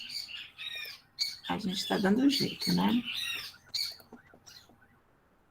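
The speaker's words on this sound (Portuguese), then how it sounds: "os passarinhos daqui já estão cantando" Small birds squawk and chirp outside after rain, fairly close and bright, heard under a person talking in Portuguese.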